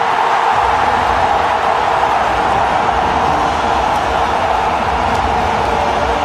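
A cricket stadium crowd at the 2011 World Cup final cheers a wicket, a dense, steady roar that fills the whole stretch at full loudness without letting up.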